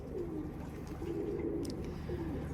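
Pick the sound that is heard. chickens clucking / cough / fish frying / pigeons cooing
pigeons cooing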